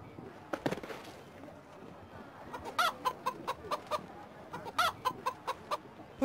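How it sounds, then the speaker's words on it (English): A chicken clucks in the video game The Road to El Dorado, a quick run of short, sharp clucks building through the second half over low game ambience, with a couple of scattered clucks earlier. "Get that chicken!"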